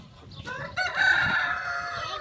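A rooster crows once nearby, a long drawn-out call rising then trailing off, over a low steady background rumble.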